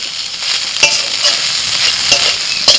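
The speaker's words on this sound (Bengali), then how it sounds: "ঢেঁড়সটা ভাজতে ভাজতে পুরো নরম হয়ে গেছে" Okra sizzles steadily in a pan while a spatula stirs it, giving sharp scrapes and taps at irregular moments over the continuous close frying hiss.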